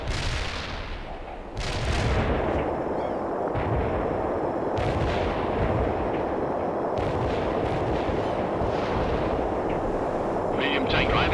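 Medium artillery fire in the World in Conflict strategy game: a heavy, continuous barrage of booming blasts and crackling detonations that swells after a short quieter opening and keeps rumbling loudly throughout.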